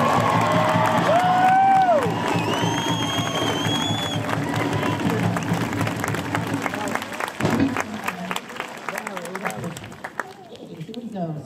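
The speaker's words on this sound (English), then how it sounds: "how about a round of applause" Steady applause from a spring showcase audience with some cheering and whoops, while a few voices speak over it, trailing off toward the end.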